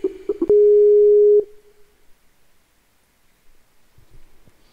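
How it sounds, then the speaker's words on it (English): An incoming call tone during an online gaming session: a few quick blips, then one loud steady tone lasting about a second that fades into near silence with faint clicks. "Alright, Bulldog, here comes a phone call, buddy."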